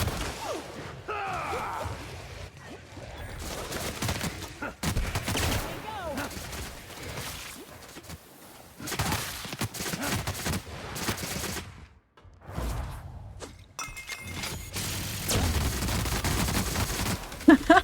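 Bursts of gunfire from a weapon in The Outer Worlds video game, with shots and impacts scattered across the scene among whooshes and crashes, with talking mixed in at times.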